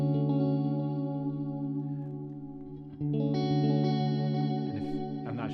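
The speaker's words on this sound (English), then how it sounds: "So you can change where the echo is kind of going" Guitar chords run through an Axe FX 3 delay and repeat as echoes, sustained notes ringing before a fresh strum midway and further echoing repeats, loud with no voices.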